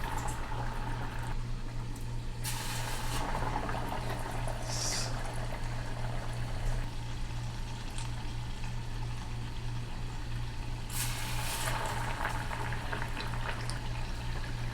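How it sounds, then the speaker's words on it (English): Potato-starch coated tofu deep-frying in hot oil, a dense, continuous bubbling sizzle that stays loud and steady throughout, with a few brief brighter crackles flaring over the hiss. "So this much potato starch is good. And put it gently in the oil."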